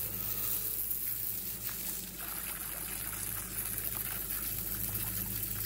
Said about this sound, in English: trusty hose. Of course, it uses water, but it's worth it.